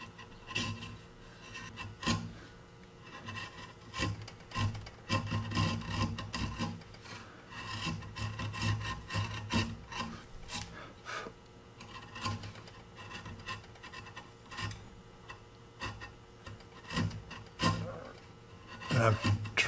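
A freshly sharpened chisel pares wood flush on a Krenov-style trestle horse, giving close, steady rasping scrapes in uneven strokes, with a brief thump near the end.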